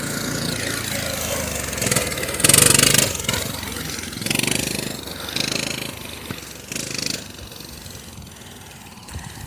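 Two-stroke mini bike engine running close by, with loud revving bursts that rise and fall over an uneven idle and faint background sounds.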